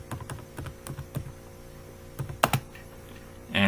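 C code being typed on a computer keyboard, short bursts of close key clicks separated by pauses, ending in a quick louder flurry.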